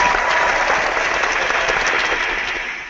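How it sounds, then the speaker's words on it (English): Steady, loud applause from an audience fills a few seconds before tapering off slightly at the end. "Here's an applause for my team."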